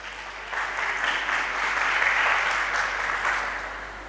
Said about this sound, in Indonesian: bisa yang lebih kencang lagi gak tepuk tangannya?